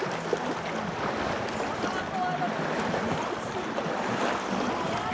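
Lake water laps and splashes in a steady wash at a Minnesota lakeside spot, a constant broadband rush with wind buffeting the microphone and occasional small splashes.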